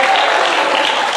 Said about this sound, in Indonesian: Beri tepuk tangan buat kalian semua